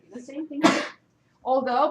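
A single sharp sneeze bursts out in a classroom during a math lecture on graphing functions. The sneeze sits between stretches of a teacher's speech, loud and close.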